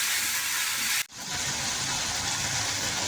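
Spice paste with coriander powder frying in a pan for Bengali rui fish curry, a loud steady sizzle that briefly cuts out, then resumes.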